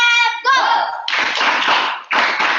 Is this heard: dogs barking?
no